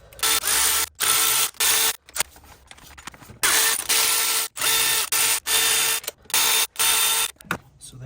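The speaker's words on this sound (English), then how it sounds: "we'll remove all 6 bolts holding this housing in" A ratchet wrench loosens the oil filter housing bolts on a 2005 BMW 325xi, with bursts of loud, close rapid clicking separated by short pauses, and no voices.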